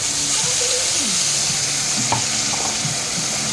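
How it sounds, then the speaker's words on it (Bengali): A paste of ground ginger, garlic, onion and green chilli sizzles in hot oil in a wok, a loud continuous frying hiss with occasional stirring scrapes close up, no voices. "কড়াইতে এবার দিয়ে দেবো মশলাটাকে।"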